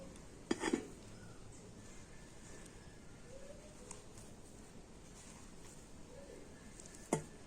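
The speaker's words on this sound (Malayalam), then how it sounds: "ഇത് നമുക്ക് ചെറുതായിട്ടൊന്ന് അരിഞ്ഞെടുക്കാം." Knife chopping two bananas for Malabar kaipola, a few faint, sparse cutting taps and knocks on a board with long quiet gaps between them.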